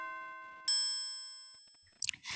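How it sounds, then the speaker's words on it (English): Synthesized tubular bells ring out in bright, sustained tones, a second struck note layered over the first and fading slowly, followed by brief rustling clicks at the end. "So that's like some sort of tubular bells."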